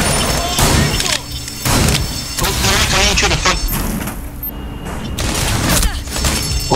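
Rainbow Six Siege gunfire cracks out in bursts of loud, close shots with sharp thuds, separated by brief pauses while players talk over the action.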